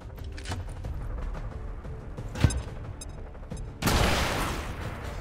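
A grenade detonates in the XCOM 2 video game, a sharp crack followed by a loud, sustained blast of rumbling debris after a stretch of quieter ambient game sound.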